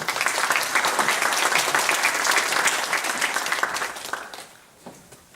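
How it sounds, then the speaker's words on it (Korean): Warm, steady applause from a conference audience welcoming a church presenter to the stage, sustained for about four seconds before tapering off into a quieter hall. "큰 박수로 맞아주시기 바랍니다"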